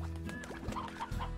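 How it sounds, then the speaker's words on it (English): Chickens cluck in the Slime Rancher video game, a few short overlapping clucks over a steady low ambient hum, close and moderately loud. "And I have chickens."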